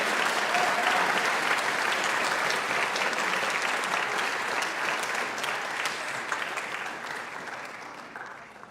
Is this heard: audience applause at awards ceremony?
yes